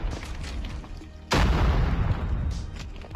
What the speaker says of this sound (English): Like, they have a ton of grenades going down, dude.